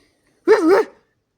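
A single short dog bark rings out loud and close in a quiz-show studio, standing alone against silence.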